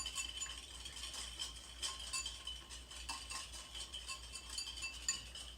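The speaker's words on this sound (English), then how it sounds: "Here we go, just whisk it up." Cream heated for a homemade ice cream base is whisked in a bowl, the whisk scraping and clinking against the sides in a steady, continuous rhythm, quiet and close with no talking.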